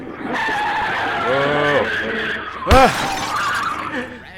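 Go-kart in FNAF Security Breach driving and skidding, an engine whine with tire-screech sweeps, then a sharp crash-like burst partway through, with a voice talking over it.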